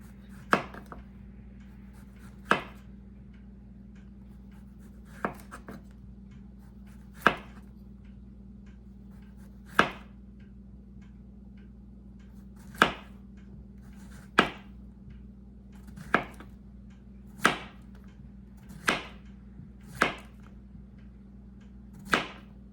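A knife slices zucchini thinly for a potato zucchini casserole, with about a dozen crisp, separate chops onto a board at an unhurried, uneven pace over a low steady hum.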